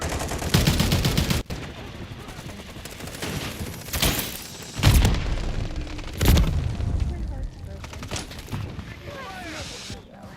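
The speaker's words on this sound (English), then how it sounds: "Throwing flash grenade." Gunfire and a thrown flash grenade in the Modern Warfare 3 video game: sharp bursts of shots and several heavy booms at intervals, loud and close, with scattered crackling between blasts.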